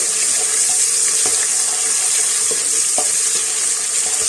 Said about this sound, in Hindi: अब मैं अदरक और लहसुन का पेस्ट शामिल कर दूंगी, तकरीबन 1 टेबलस्पून मेरे पास, और इसको भी हम थोड़ा सा भून लेंगे।